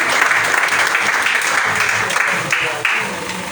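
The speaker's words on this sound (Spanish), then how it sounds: "Un aplauso fuerte al Señor nuestro Dios." Loud, dense applause fills a church during a Spanish-language worship service, the congregation clapping steadily and close for the whole stretch, with a few brief voices mixed into the crowd noise.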